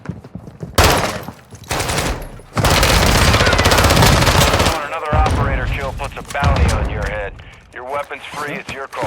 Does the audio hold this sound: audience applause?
no